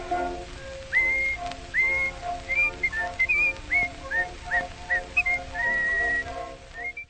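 A person whistles a bouncy tune, note after note in quick phrases, clear and close over a quiet instrumental backing.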